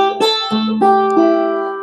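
A four-string cigar box guitar plays a short melodic phrase from a song, several plucked notes ringing into one another, close and clear with no voices.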